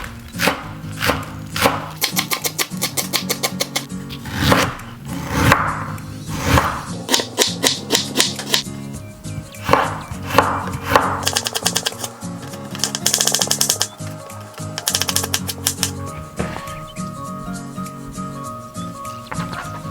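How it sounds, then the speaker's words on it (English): A knife chops spring onion and ginger on a cutting board in rapid bursts of crisp taps, close and loud, with short pauses between runs. "we have to chop the spring onion and ginger"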